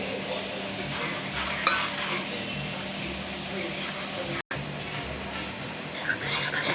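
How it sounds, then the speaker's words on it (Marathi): A deep ladle stirs besan batter in a bowl, giving soft repeated scraping and sloshing strokes at close range while a voice talks over it. "पळीने हलवायची, अशी खोलगटच पळी घ्यायची"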